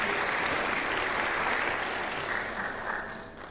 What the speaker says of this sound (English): Big round of applause for all of our guests.